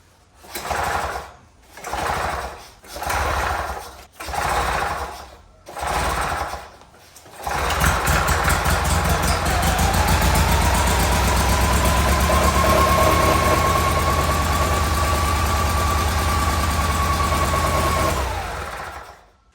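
A Vietnam-era army generator engine, its mixture leaned, gives several short sputtering bursts from pull starts, then catches and runs steadily at a loud, even idle for about ten seconds before shutting off.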